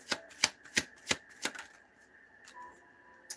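Tarot cards are shuffled in a handful of sharp riffling bursts at a steady, roughly even rhythm, close and crisp, then trailing off into quieter faint handling.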